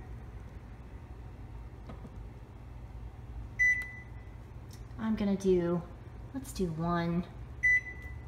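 A kitchen oven timer is set while a low appliance hum runs steadily, with short electronic beeps heard alone and between a person's spoken words.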